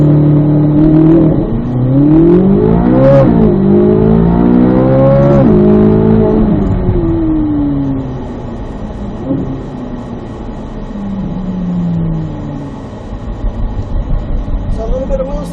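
A Corvette C8 Z06 launches with some wheel spin, its engine rising through gears in a loud, close roar that falls away, then rumbles on with tyre and road noise.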